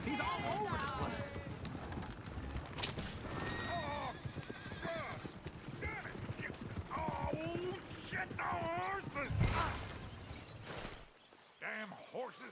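Horses in Red Dead Redemption 2 clip-clop and gallop close by, with loud neighs and whinnies rising over the hoofbeats while people talk throughout; the commotion cuts off near the end.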